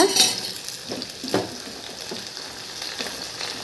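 Thorny nightshade pieces added to a pan of softened onion and garlic, frying with a continuous close sizzle broken by a few stirring scrapes and soft utensil knocks, no voices.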